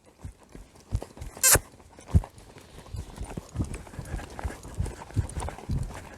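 A horse trotting during a riding lesson in a halter and bosal, with a steady rhythmic clip-clop of hooves close by and a brief high whoosh early on; no talk.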